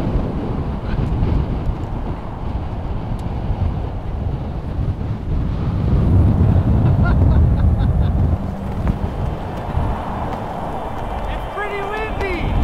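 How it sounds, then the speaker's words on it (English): Strong, gusty wind blows in Death Valley, roaring across the microphone as a loud, continuous rumble that swells midway. People talk over it. "It's pretty windy!"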